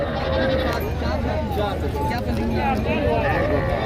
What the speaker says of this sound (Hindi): मंडी के अंदर एक 4 बच्चों वाली बकरी है ये